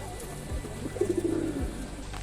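A pigeon in a coop gives a low, rolling coo close by, one drawn-out burst in the middle of a quiet stretch, with no voices.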